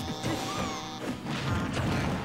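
In Super Smash Bros. for Wii U, an up smash lands on Charizard with a sharp crash, followed by rumbling impact noise and crowd-like din from the match.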